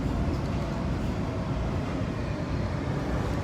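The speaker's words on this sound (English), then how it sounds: "There's another train." A Washington DC Metro train passes with a loud, continuous rail rumble and roar that stays steady throughout without letting up.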